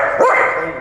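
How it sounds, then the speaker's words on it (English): A dog gives one sharp, loud bark up close, followed by a brief whiny tail of sound, with no one talking over it. "Stop barking."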